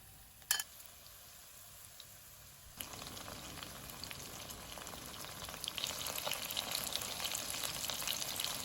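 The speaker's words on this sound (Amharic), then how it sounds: "እኔ ዛሬ ዶሮዬን የምጠብሰው በዘይት ነው።" Chicken pieces frying in oil for honey garlic chicken, a steady crackling sizzle that starts quietly, jumps louder after a brief clink and grows busier toward the end, close and continuous with no talk.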